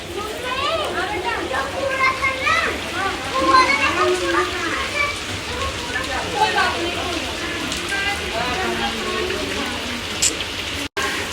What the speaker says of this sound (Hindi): मुझे लगता है ना इतनी भी बारिश नहीं हो रही है